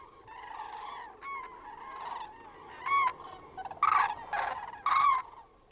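European cranes at an autumn migration gathering on Rügen give loud trumpeting calls in several bursts, some overlapping, over a faint background murmur of other birds.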